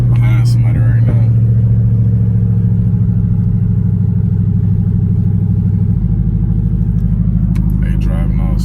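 A 2012 Dodge Charger SRT8 with a loud exhaust rumbles deep and steady from inside the car while it creeps along behind slow traffic, with brief bursts of a voice near the start and end.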